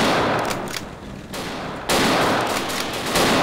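Loud, sustained gunfire aimed at a T-Rex in the video game Dino D-Day, dense overlapping shots with a brief dip in the middle before a heavy burst resumes.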